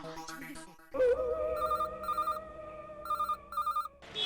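A telephone rings in two bursts of repeated electronic trills with a pause between, over background music, with a brief voice at the start.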